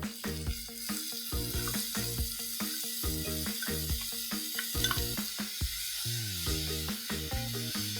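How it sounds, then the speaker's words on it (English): Chopped onions sauteing in hot oil, a steady close sizzle with stirring scrapes, under continuous background music. "once the oil becomes hot, I'm going to saute 3 finely chopped onions till they are nice and translucent"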